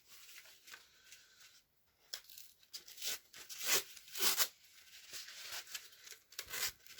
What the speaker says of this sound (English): You just peel it off.